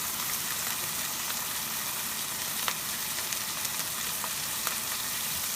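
Burgers sizzle steadily on a hot grill, a constant crackling hiss with occasional sharp pops, close by.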